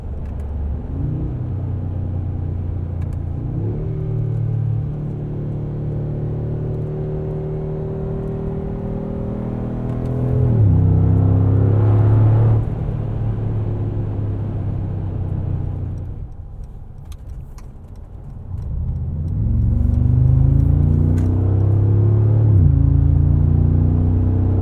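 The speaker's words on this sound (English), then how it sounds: "I hope you guys are wearing headphones for this because I could listen to this V8 all day long" V8 engine of a 2020 Mercedes-AMG G63 heard from inside while driving, a deep rumbling growl that swells through rising revs and gear changes, loud and close, with a quieter lull before accelerating again.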